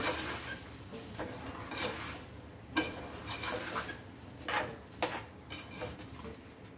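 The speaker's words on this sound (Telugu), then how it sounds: "బిర్యానీకి మసాలా అంతా కలిపేలాగా ఇట్లా కలిపేసుకోవాలి." Biryani masala is stirred through in a metal pot, with a continuous close rasping scrape of a spoon and a few louder clanks against the pot's side, with no voices.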